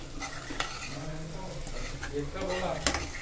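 Green chillies stirred in hot oil for a mutton pickle: a spoon scrapes against the pot in repeated strokes over a continuous close sizzle, with light metallic clinks.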